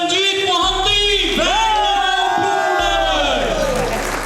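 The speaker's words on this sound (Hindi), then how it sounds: "जोरदार तालियां।" A crowd at a wellness company launch ceremony cheers and shouts loudly, voices whooping and rising in pitch over a steady hum, with applause mixed into the clamour.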